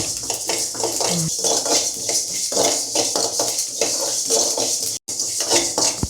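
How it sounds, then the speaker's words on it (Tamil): Sesame seeds roast in a pan for idli powder, giving a steady, close crackling and scraping with light metallic clinks that runs almost continuously, broken by one brief silent gap. "இப்போ எள்ளு வறுத்தாச்சு."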